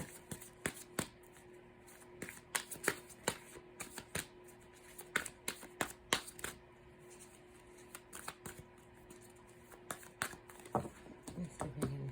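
A deck of tarot cards is shuffled up close in quick, soft riffling bursts that repeat irregularly against a quiet room.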